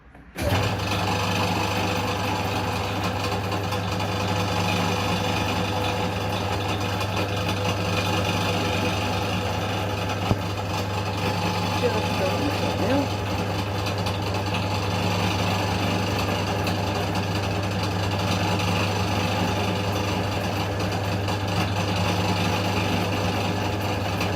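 A lathe in a workshop running steadily at its lowest speed of 40 RPM while parts are made for a companion stove, giving a loud, continuous motor hum with a constant drone that scarcely changes for the full length.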